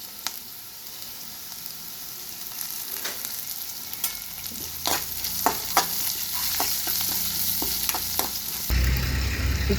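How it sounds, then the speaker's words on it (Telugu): Chopped ginger, green chillies and coriander sizzle steadily in a hot pan while a spoon scrapes and stirs in sharp repeated strokes, close and loud, the frying rising near the end. "కొంచెం వేగిన తర్వాత కొత్తిమీర"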